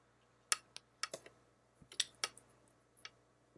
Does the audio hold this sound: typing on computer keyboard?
yes